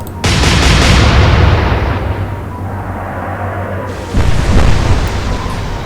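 Heavy naval guns in Atlantic Fleet boom out in a loud broadside, with a long rumbling tail and a second blast following a few seconds later, with no voices.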